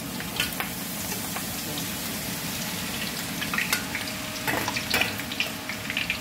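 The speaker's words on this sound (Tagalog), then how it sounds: "ang una natin gagawin ay fry natin yung shallot" Sliced shallots fry in a generous amount of oil for XO sauce, giving a steady close-up sizzle with scattered sharp crackles and pops throughout.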